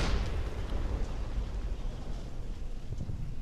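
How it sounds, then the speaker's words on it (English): A gunshot in the WWII shooter Brothers in Arms: Hell's Highway lands as a loud, dense burst of broadband noise that rumbles on for a few seconds, with no speech over it. "I heard another gunshot."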